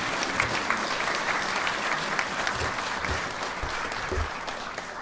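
Theatre audience applauding steadily after a concert, a dense, sustained wash of many hands clapping with no pause.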